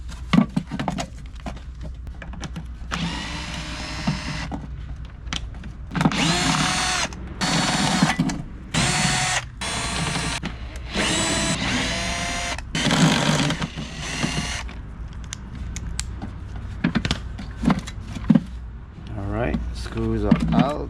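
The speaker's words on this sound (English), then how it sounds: "Now there's a couple of T25 screws right here that we need to unscrew them and take this cover off." A power tool backs out the T25 Torx screws on the air filter cover of a 2011-2016 BMW 5 Series F10 with the N63 engine. It runs in about six short whirring bursts, close and fairly loud, with pauses between them.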